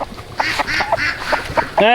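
Duck on a small farm lets out a rapid series of close, raspy quacks in a stuttering, laugh-like run, about seven or eight calls in two seconds.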